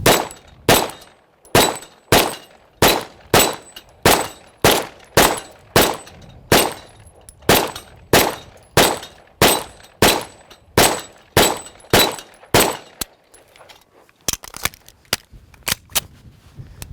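Rapid series of about twenty sharp 9mm pistol shots from a Watchtower Apache striking steel plates, evenly paced with crisp metallic rings, a brief pause, then a few more shots close and loud.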